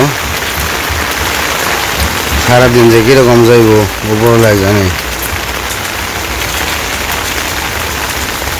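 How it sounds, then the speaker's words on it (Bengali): Steady rain pours down over a Bangladeshi village in the morning, a constant broadband hiss throughout, with someone speaking briefly over it in the middle. "তো সকাল সকালই বৃষ্টি নেমে গেল।"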